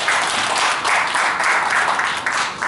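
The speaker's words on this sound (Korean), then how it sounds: "박수 좀 부탁드리겠습니다" A crowd applauds steadily at a New Year reception held in a wedding hall, with dense, continuous clapping at close range for a few seconds and no talking.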